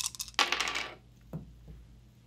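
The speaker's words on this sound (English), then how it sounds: "we roll all of the dice that we have available for this action" Handful of dice rolled for a tabletop RPG, a bright burst of clattering and tumbling dice on a hard surface, followed by a single die bouncing and settling, close and loud with no talk.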